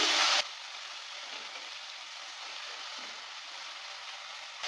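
Hog plums frying with black mustard seeds in a pan give a soft, even sizzle that follows a brief louder burst as they go in, close and fairly quiet with no talk.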